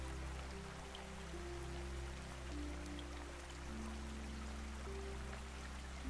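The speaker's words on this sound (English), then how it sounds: "The air is cool and rich with rain." Steady rain falls in a narrow, sheltered lane in a cozy fantasy setting. The broadband hiss and patter stay even for the whole stretch, with a soft musical drone running beneath it and no talking.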